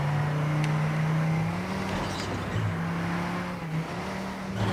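In the ManiaPlanet racing game, a car's engine holds a steady droning hum at speed on a Himalaya-themed track, with slight pitch shifts as it drives on continuously.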